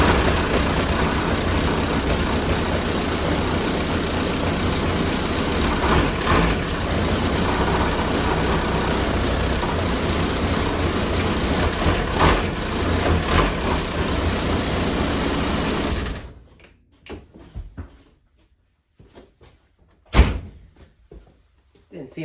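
A Volkswagen Rabbit pickup engine idles steadily after a motor mount repair, a constant loud rumble that shuts off abruptly, followed by a few sparse thumps and a door slam in near quiet.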